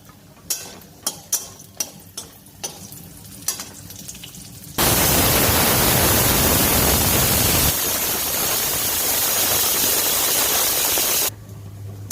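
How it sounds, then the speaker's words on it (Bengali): Lentil dumplings (bori) fry in hot oil in a wok, a loud, dense, steady sizzle that bursts in after a run of sharp kitchen taps and clicks, then cuts off abruptly. "বড়িগুলো ভেজে নেব।"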